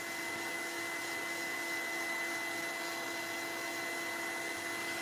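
A heat tool blows steadily to dry gel on a craft piece, making a close, loud, unbroken whirring hum and rush of air with no talking.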